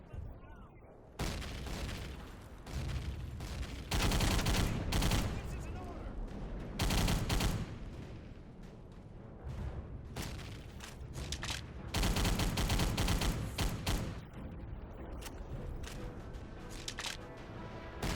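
Rapid bursts of World War II gunfire from Thompson and Type 100 weapons in a shooter game, loud automatic volleys separated by short lulls.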